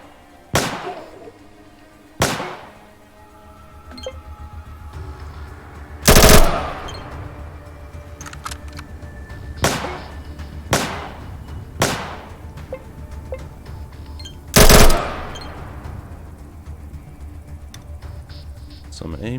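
Pistol and SMG gunfire in the video game ATOM RPG, heard as sharp, loud single shots spaced a few seconds apart, with two especially heavy bursts standing out above a low game ambience.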